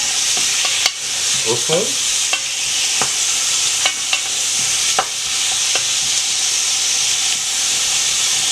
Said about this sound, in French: Donc je vais les faire revenir un petit peu avant d'ajouter l'huile pour les faire frire un peu